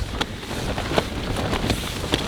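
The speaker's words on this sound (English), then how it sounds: "The wind is making the tent so small. It's pushing in on the insides." Strong storm wind presses on a tent, a loud, constant rushing roar with gusty flaps and thumps of fabric breaking through at irregular moments.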